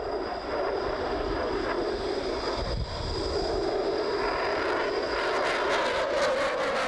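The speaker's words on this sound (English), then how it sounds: "So it's now called Eurofighter Typhoon." Eurofighter Typhoon jet at an air show, a loud continuous roar that holds steady throughout and sounds fairly close.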